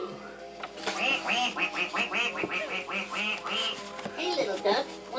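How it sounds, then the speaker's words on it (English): Many ducks quack out on a pond in a busy, repeated chorus of loud nasal calls with short gaps, close by, and the quacking runs almost the whole time. "A lot of ducks out on the pond."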